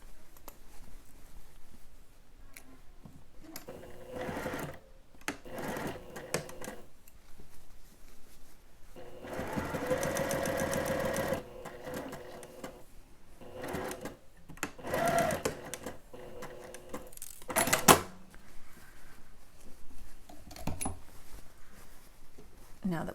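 A sewing machine stitches the lining of a child's dress bodice in short bursts of quick, close mechanical whirring, stopping and starting several times, with a longer steady run in the middle.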